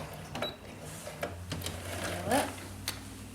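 Sewing machine stitching a seam around a tank top, heard as a short close burst of mechanical whirring and clicking with faint background hum, no talking.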